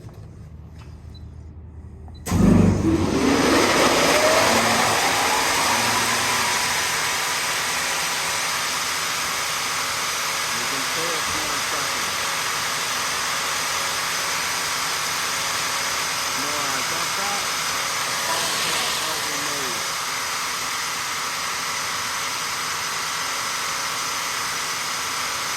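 A Tough Cut wide belt sander switches on with a sudden surge, then settles into a steady, loud motor whir and belt hum that runs continuously. A voice speaks faintly under the machine.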